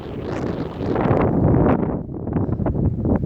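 Strong wind buffets the microphone with a continuous roaring rumble that swells and eases, loud and close throughout.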